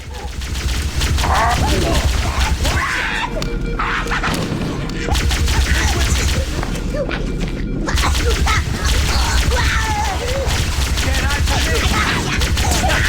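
Gunfire in the DOOM vs Halo video game: dense, continuous bursts of rapid shots and crashing impacts, loud and close, with shouted voices mixed in throughout.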